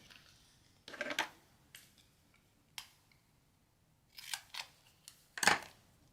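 Scissors snip through cardstock for a stamping craft project in a series of sharp, crisp cuts, several in quick pairs with pauses between, close and clear against a quiet room.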